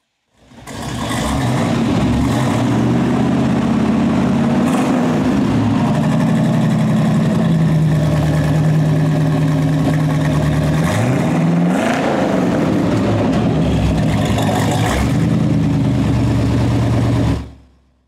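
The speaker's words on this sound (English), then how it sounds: "Let's have a listen to the newer exhaust and newer mufflers." A 1979 Chevrolet Corvette with new exhaust and mufflers idles close by, a steady low rumble with a brief blip of revs midway, running alone without talk until it shuts off.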